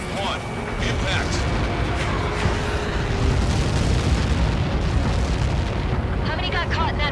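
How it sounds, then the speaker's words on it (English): A massive explosion from the Ace Combat 7 video game, a sustained loud rumbling roar filling the whole stretch, with radio-style voices speaking over it. "How many got caught in that explosion?"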